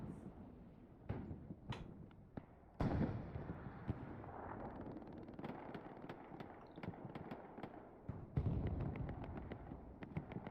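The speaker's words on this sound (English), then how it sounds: "We're about to see a bombing run from the Axis." Axis bombing run in the video game Hell Let Loose: a dense, continuous rumble of blasts and crackling detonations, with heavier booms hitting near the start and again later, nothing else over it.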